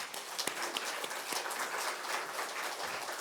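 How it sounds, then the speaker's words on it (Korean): Church congregation applauding during a Korean worship service, scattered clapping at a moderate level with a few sharper individual claps standing out, continuing steadily throughout. "박수 한번 주십시오."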